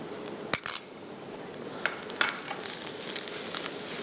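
Meat sautéing in oil in a pan as it is stirred, with a steady low sizzle, a few sharp clinks of a utensil against the pan early on and soft scraping throughout, close and moderately loud, with no talk.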